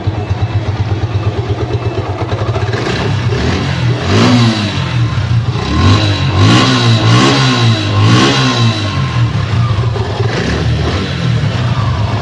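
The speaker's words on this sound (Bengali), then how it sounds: "এবার আমরা অ্যাক্সেলেটার দিয়ে সাউন্ড শুনি।" A 2022 Suzuki Gixxer SF 155 cc motorcycle idling steadily, then revved several times with rising and falling throttle blips, loud and close.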